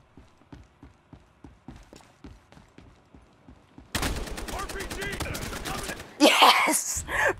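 A first-person shooter firefight: steady rhythmic thumps of footsteps give way to a dense crackle of gunfire, then a loud, close RPG rocket blast bursts out near the end and rumbles on.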